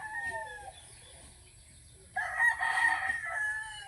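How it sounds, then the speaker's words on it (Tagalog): Roosters crow in a quiet neighborhood, one faint call at the start, then a louder, closer crow rising and holding for over a second, with a low background hum. "narinig yung mga manok."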